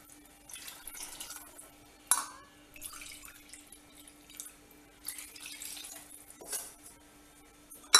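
Water goes into a cooking pot for wheat rava, heard as scattered splashes, drips and light metallic clinks of the pot and utensils, with a faint steady hum beneath and some louder bursts.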